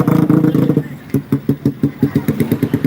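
A motorcycle engine revs and idles close by at a Sasak nyongkolan wedding procession, steady at first and then pulsing in quick regular throttle blips, with no speech over it.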